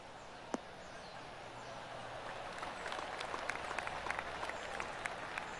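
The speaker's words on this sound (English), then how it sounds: "Oh, golf clap." Soft golf clap applause from a small gallery in the PGA Tour 2K23 video game, faint and distant, scattered claps building gently after one early sharp tap.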